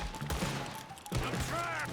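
Gunfire in the video game Red Dead Redemption 2: a couple of sharp, close shots burst out a second apart over a busy backdrop of game sound.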